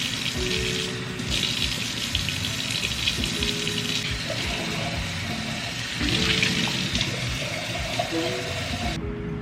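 Tap water runs steadily over and into a glass candle jar being rinsed at a sink, a continuous splashing wash with small swells in intensity and a few clinks, ending abruptly.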